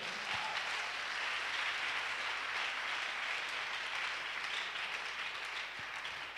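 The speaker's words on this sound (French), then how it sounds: "Oh, give yourself a big clap." A church congregation claps together in a dense, sustained round of applause that fills the room at an even level.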